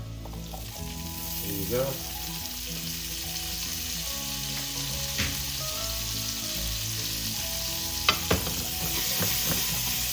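Asparagus sizzles and fries in a hot pan with sauce, salt and pepper at medium-high heat, a steady close crackle with occasional stirring clinks and a brief spoken comment.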